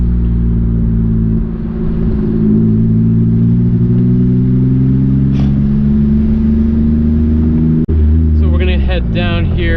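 A Mitsubishi Eclipse GTS with a manual transmission drives along with a loud, steady engine drone that shifts pitch as it runs. A brief clank sounds near the end, followed by a short stretch of revving.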